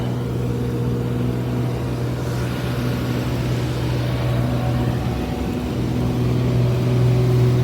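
A combine harvester engine runs steadily at close range during crop trial plot harvesting, a constant low hum with a faint mechanical whine and no talk.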